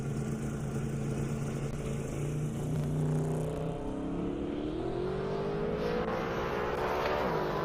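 A Ford Mustang Fox body drag car at a half-mile airstrip drag race, a loud engine roar that climbs in pitch through the second half as it accelerates away, with no voices.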